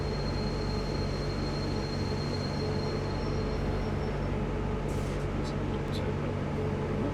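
A BR112 electric locomotive on the Hamburg–Lübeck line in Train Simulator hums and rumbles steadily at speed, and a few brief high squeals and clicks come near the end.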